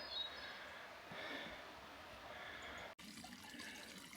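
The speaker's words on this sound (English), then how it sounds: "This little creek, the Rio Hondo I think it's called. It's barely a trickle now" The Rio Hondo, a small mountain creek in a steep valley in northern New Mexico, trickles faintly and steadily with a soft watery hiss and a brief dropout near the end.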